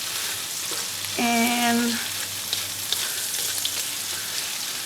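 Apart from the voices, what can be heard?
meat frying in pan for mixed fried rice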